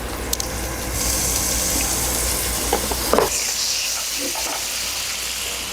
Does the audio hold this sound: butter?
yes